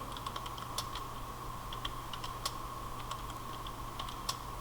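Typing on a computer keyboard in Word 2016, a steady run of light, close key clicks over a constant low hum, fairly quiet and without talk.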